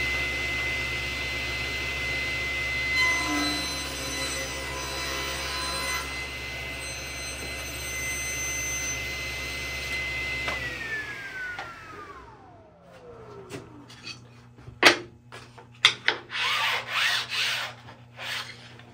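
A SawStop PCS table saw rips a jointed wooden board, its motor whining steadily before the pitch drops as the blade spins down, followed by a series of close knocks and clatters as the board is handled.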